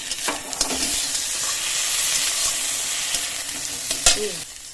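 Onions fry in a pan with ginger and garlic paste, giving a steady close sizzle and hiss, with a few scraping stirs of a spoon at the start and end.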